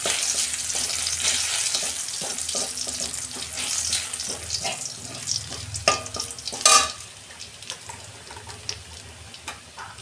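Garlic sizzles in hot oil for tempering in a home kitchen preparing potato greens and drumstick leaves; a steady soft crackle runs throughout, broken by stirring scrapes and a brief louder burst near the middle.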